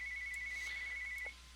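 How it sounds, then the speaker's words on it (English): An electronic phone ring sounds close by as one continuous warbling tone lasting just over a second before it cuts off, with soft faint clicks around it. "I'm sorry if you can hear the phone ringing in the background."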